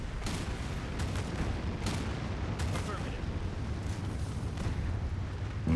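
Gunfire and explosions in the futuristic city-building strategy game Anno 2205, played on expert difficulty: a dense, steady wash of shots and blasts with several sharper bursts, running throughout under a radio-style voice.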